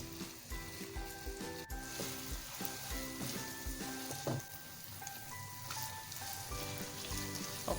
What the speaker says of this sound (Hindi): कीमे को जो है हम 3 से 4 minute medium to high flame पे इसको भूनेंगे